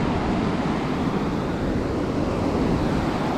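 Ocean waves wash steadily onto a beach, a loud continuous roar of surf mixed with wind buffeting the microphone, with no talk.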